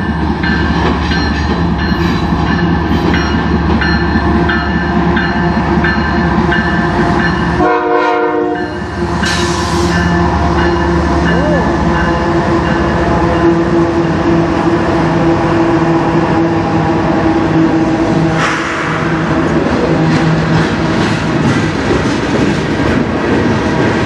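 CN freight train 383 on the Strathroy Subdivision, led by a locomotive, roars past close and loud with a steady rumble, clattering wheels and a horn blast, continuous throughout.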